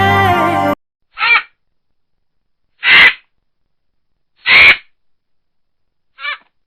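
A crow gives four harsh, fairly close caws at spaced intervals, after a short burst of another sound at the start.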